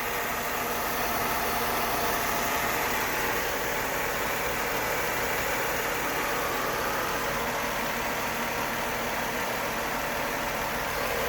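Car engine with an OM617 diesel-related cooling setup idling after its first start in two months, a steady even drone with broad hiss, constant and unchanging throughout with no talk.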